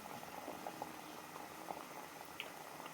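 Masoor dal simmers in a pot with a faint, continuous bubbling and soft occasional pops, quiet and steady without talk.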